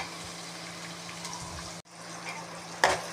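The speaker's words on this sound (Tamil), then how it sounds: "இப்போது வெங்காயம் நல்லா வதங்கட்டும்." Onions sautéing in a pan for pepper chicken, a soft steady sizzle close by, broken by a brief gap and a sharper stir scrape near the end.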